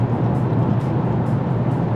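A loud, steady Porsche GT4 RS engine rumble drones continuously with a deep, throaty low end and no breaks.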